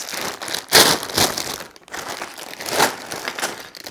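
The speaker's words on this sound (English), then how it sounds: "a few plastic bags" Plastic bags from a building-brick model kit rustle and crinkle in close, irregular bursts as they are handled, loud and crackly with no talking.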